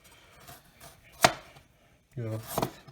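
A few sharp knife chops on a cutting board, spaced irregularly, with quiet rustling between strikes.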